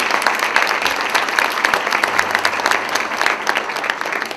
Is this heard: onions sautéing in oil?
no